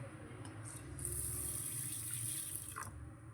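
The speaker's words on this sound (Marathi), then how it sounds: "एक दोन तीन पाण्याने ह्याला स्वच्छ धुवून घ्यायचं आहे" Water runs steadily from a tap and splashes into a bowl of lentils being rinsed for a few seconds, close and fairly quiet.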